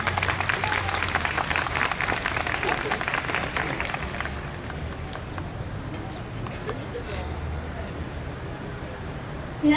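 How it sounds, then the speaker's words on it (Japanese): Audience applause and cheering at an outdoor stage of the Ginza Yanagi Festival in Tokyo, welcoming a combined elementary school wind band; dense clapping, loudest in the first few seconds, then thinning under crowd murmur and background noise. "盛大な拍手でお迎えください"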